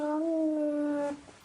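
A single close, clear cat meow, drawn out and slightly rising before fading abruptly, heard alone against quiet background.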